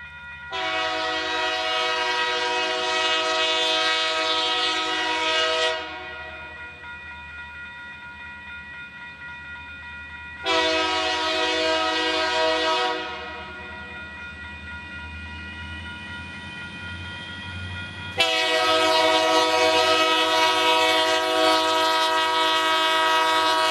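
A freight train horn blares in three long blasts over the steady low rumble of a passing train led by a single GP40-2 locomotive, loud and close.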